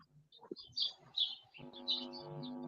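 Several birds chirp in short bright bursts in a quiet city setting, with a faint low hum entering partway through.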